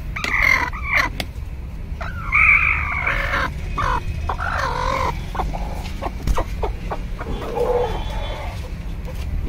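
Chickens in a coop where a hen sits brooding on eggs, with clucks and calls heard up close, including rooster-like crowing phrases, amid background rustling and a steady low hum.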